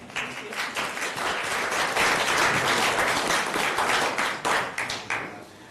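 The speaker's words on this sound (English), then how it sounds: "we ought to give them a hand, right, of applause for all the work they do" A crowd at a county board of supervisors meeting applauds steadily, dense clapping holding for several seconds before thinning out toward the end.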